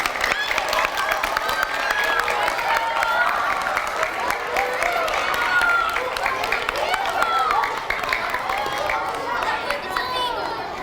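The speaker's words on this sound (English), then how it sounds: "Give them a big hand. Oh, you can clap better than that." An audience claps for Daniel the Beagle and Shelby Dwyer as they arrive, a steady, busy wash of applause mixed with crowd chatter and voices talking throughout.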